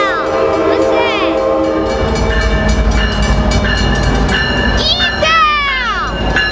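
Train number 463 rolls past at San Juan Capistrano with a loud, sustained horn and shifting tones over a heavy rumbling drone, close by, while people talk nearby.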